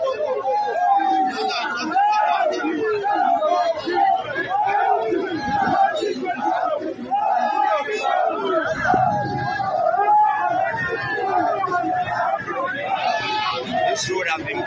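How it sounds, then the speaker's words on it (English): Roadside crowd in Anyigba cheering and chattering for Peter Obi after he settled a blocked-road dispute, a dense continuous babble of many voices with shouts rising throughout, loud and close. "everybody is cheering for him"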